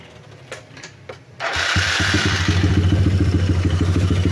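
A motorcycle engine is test-run after its exhaust pipe has been repaired, first faint handling noises, then the engine catches at about 1.5 seconds and holds a steady, loud, rapid mid-range chug that continues to the end.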